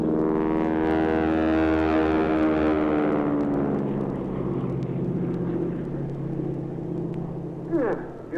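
Aerobatic airplane engine at an air show, a slow low-powered propeller drone with a steady harmonic hum that shifts in pitch as the plane passes, fading somewhat before a brief swell near the end.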